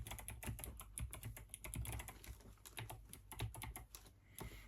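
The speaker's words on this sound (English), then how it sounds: "by the clicks of the keyboard you can't tell what my password was" Rapid, uneven clicking of fingers typing on a computer keyboard, close and fairly quiet, with bursts of keystrokes and short pauses throughout.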